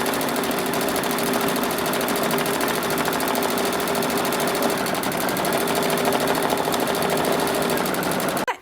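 A sewing machine quilting reindeer quilt blocks runs in a fast, even, continuous stitching rattle, loud and close, stopping abruptly at the very end.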